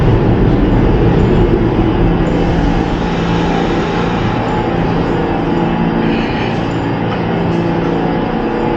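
A C subway train rumbles loudly through Nostrand Avenue station, a dense steady roar of wheels and motors with a faint metallic whine, no voices.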